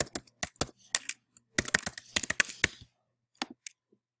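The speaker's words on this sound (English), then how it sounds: "Please enter your current credentials here." Keystrokes on a computer keyboard entering a username and password at a login portal, crisp clicks in quick irregular bursts with short pauses, close and fairly quiet, no talking.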